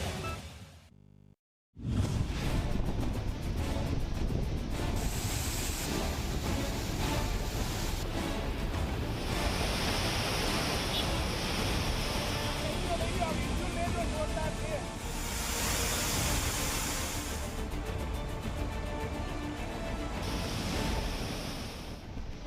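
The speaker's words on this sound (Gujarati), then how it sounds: "દરિયામાં ભારે કરંટ," Rough sea with a strong current: a constant, loud roar of crashing surf and wind-blown water that swells and eases, sustained for the full stretch after a brief silent gap near the start.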